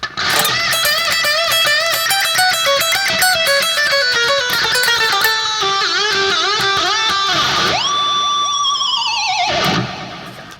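A distorted electric guitar plays a fast, bright lick from Pantera's Rise solo, with rapid note runs and bends ending in a sustained squealing, pitch-sliding phrase that fades out, loud and close.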